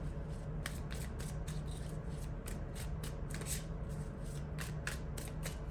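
Tarot cards are shuffled by hand in quick, repeated riffling bursts, soft and close, with a steady low background hum and no talking.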